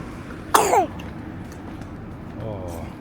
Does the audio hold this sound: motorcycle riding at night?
no